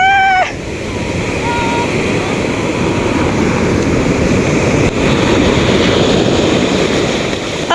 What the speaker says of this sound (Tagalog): Tapos may alon-alon pa